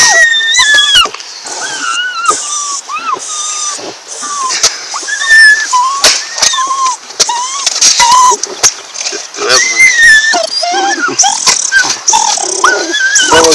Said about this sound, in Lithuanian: Tavo geriau loja, mano geriau kas.